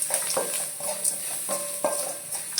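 A soft, steady sizzle of turmeric frying in oil with light spoon taps and stirring knocks against a pan every half second or so.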